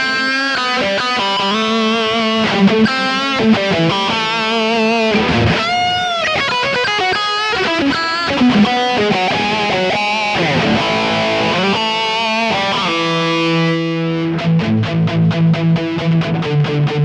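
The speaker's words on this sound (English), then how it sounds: "it's instantly going into like a solo, kind of a louder solo patch with more delay, a little bit more reverb, just a wetter delay really" Electric guitar through a louder Kemper solo patch with wet delay and extra reverb, playing a fluid lead line of sustained and quick notes with echoing tails, close and alone with no talk.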